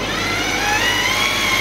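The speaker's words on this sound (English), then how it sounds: "now we're going to be actually spooling the line on so you guys can see how it works" A Daiwa Tanacom 1000 electric fishing reel powered by a deep cycle battery spools braided line, giving a steady, loud motor whine with a rising tone and no pauses.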